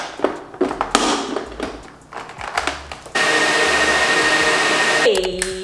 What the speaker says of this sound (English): I need to go sit under the dryer ASAP.